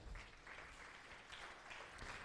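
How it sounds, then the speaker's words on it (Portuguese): Students in a calculus class clap for a classmate, a short, faint burst of scattered hand claps in a room. "Palmas para ele"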